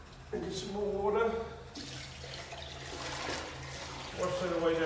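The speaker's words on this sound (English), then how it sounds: "Wash that away down the drain." Water poured down a urinal drain, a close splashing and trickling flow that swells and fades, with someone speaking over parts of it.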